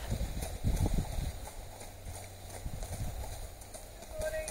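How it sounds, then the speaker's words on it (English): A horse and cart roll past on a New Forest road, hooves clip-clopping in a steady walking rhythm, loudest near the start and then fading as it moves on, with outdoor ambience around it. "we'll stand here and let this lovely horse and cart go past"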